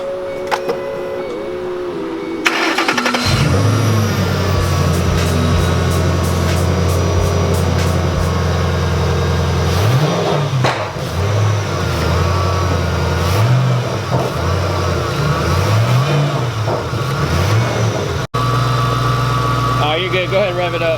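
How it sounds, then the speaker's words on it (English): A 2005–2009 Ford Mustang GT V8 with a cold air intake starts up inside a garage, settles into a deep, loud idle, then is blipped through several rising and falling revs, with people talking near it. "Go ahead and rev it up."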